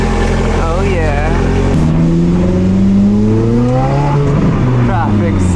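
A Mercedes S-Class engine revs as it pulls away, its pitch sweeping up and down through several gear-like climbs. It is loud and close throughout, with a voice speaking briefly over the engine.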